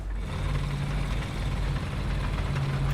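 Leopard tank engine in a video game ground battle, a steady low droning rumble like a lawnmower, continuous and fairly loud with a constant hum throughout, no talk.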